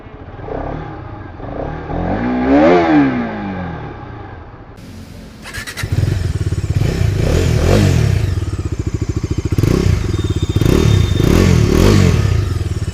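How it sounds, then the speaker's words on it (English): Two motorcycles, an RS and a Domina, revving their exhausts one after the other: a rising and falling rev close by, then a second, louder bike with a gruff, bassy note blipping repeatedly. "Exhaust note of both bikes sound sweet. Have a listen."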